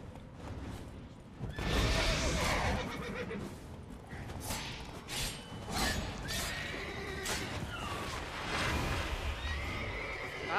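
Roach, a horse in The Witcher 3, whinnies and snorts repeatedly with clip-clopping hooves over busy game ambience, loud and close throughout.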